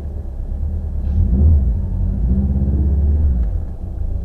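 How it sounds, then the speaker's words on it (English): A Mitsubishi Evo rally car rumbles along with its engine droning low and revving up and down, heard from inside, loud and steady with bumps. "Driving the Evo with Evo brakes."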